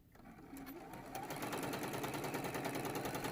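A sewing machine runs steadily at close range, its rapid mechanical stitching whirring continuously after a brief quiet start.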